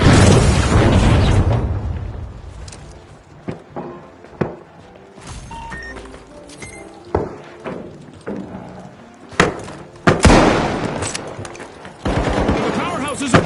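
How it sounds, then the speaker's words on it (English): Grenade explosions in The Finals, loud booming blasts at the start and end with sharp bursts of gunfire and thuds scattered between them, and a voice calling out over the action. "Good grenade set!"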